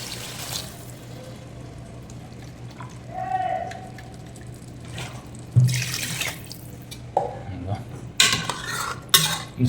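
Water poured into mutton biryani masala in a cooking pot, a running splash with clinks of metal utensils and a stirring scrape, close by, with faint voice sounds in the background.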